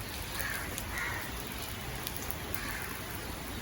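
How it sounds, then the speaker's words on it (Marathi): Steady rain falling, a dense, even hiss of drops pattering on surfaces throughout, with no voices. "आता बघा पाऊस आला आहे"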